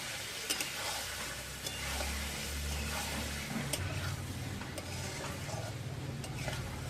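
Boiled potatoes and papaya being stirred and fried in a spice paste, a soft sizzle under scattered scraping clicks and a low rumble, fairly quiet and without speech.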